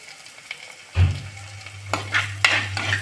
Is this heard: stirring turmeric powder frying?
yes